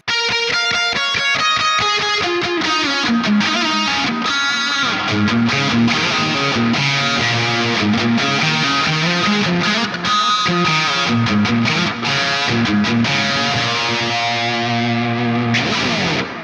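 A distorted, high-gain electric guitar through an EVH 5150III 50W amp plays a sustained lead line drenched in reverb and echoing delay, loud and continuous throughout.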